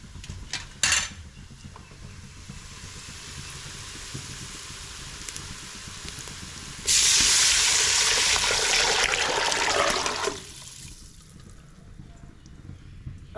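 Tamarind water is poured into a cooking pan in one steady rushing stream lasting a few seconds, preceded by a clink of metal and quiet kitchen background.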